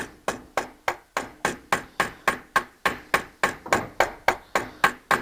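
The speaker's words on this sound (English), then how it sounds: "As you're hammering as well, you're trying to work it down, but also try and pull it out at the same time." Sheet metal for a homebuilt aircraft part being shaped with a hammer, about twenty sharp, even blows in a steady rhythm, loud and close, with no talk.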